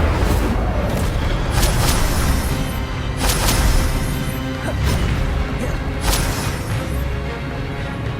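Incendio fire spell blasts in Hogwarts Legacy, a loud, continuous roar of fiery bursts and crashing booms with repeated sharp flare-ups, dense and sustained throughout, no voices.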